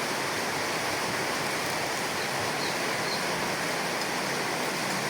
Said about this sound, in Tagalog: Lumakas na yung ulan pagdating namin.